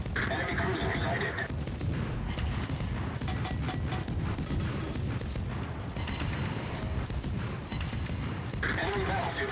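Rapid-fire naval guns of the destroyer Forrest Sherman in a naval battle video game, a relentless, loud stream of booming shots with hardly a pause, with a voice talking over it.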